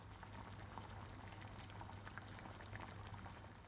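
A pan of fish marinade with spices simmering steadily, with a constant bubbling fizz and small pops, close by and uninterrupted.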